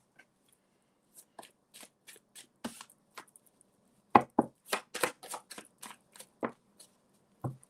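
Tarot cards shuffled by hand, a run of quick crisp riffles and taps in uneven bursts, close and clear, louder in the middle with short pauses between.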